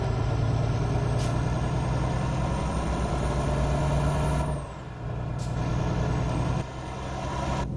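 A Volvo semi truck engine in American Truck Simulator idles with a deep rumble, punctuated by sharp hissing bursts of air brakes releasing pressure.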